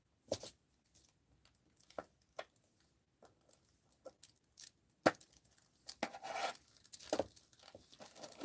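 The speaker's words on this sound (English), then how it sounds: "Let's cut this one up." Scissors snipping through scrap paper in short crisp cuts, irregular rhythm with quiet gaps, then denser rustling snips and paper handling near the end, close and fairly soft.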